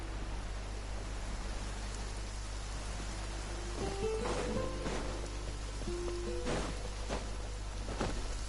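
Rain in Genshin Impact falls as a steady hissing wash under a constant low hum, with scattered soft tonal game sounds and brief bursts partway through.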